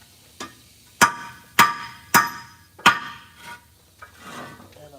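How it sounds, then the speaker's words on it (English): Hammer tapping pieces into holes: five sharp, ringing strikes, four close together then a fifth after a short pause, followed by fainter softer knocks, loud and near with no talking. "you have to use the hammer, of course, to tap them in"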